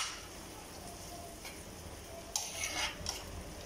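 Two eggs sizzle in hot oil in a pan for sisig, a steady close frying hiss that swells near the end, with a few light utensil clinks.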